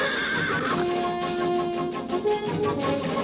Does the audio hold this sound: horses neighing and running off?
yes